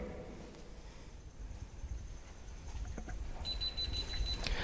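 A temperature screening machine's buzzer beeping after a hot lighter is held to it to mimic a fever, a steady electronic tone entering near the end over a faint low background.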